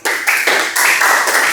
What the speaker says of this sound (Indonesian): Oke, beri tepuk tangan untuk kelompok 4.